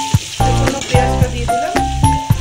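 Onions dropped into hot oil with whole spices (cardamom, cinnamon, coriander) sizzle steadily, with a few sharp clattering stirs of a utensil close by and no talking.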